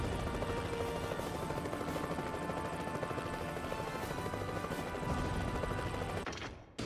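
A helicopter in the GameCube game X2: Wolverine's Revenge hovers with a steady, dense rotor whir and mechanical drone, moderately quiet and continuous, with faint gunfire-like crackles mixed in before it cuts off near the end.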